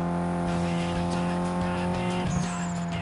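Bone-stock turbocharged car engine in Need For Speed Most Wanted (2005) during a rival race, a steady sustained engine drone with strong harmonic tones, a brief tire squeal near the end and a faint whistle overhead.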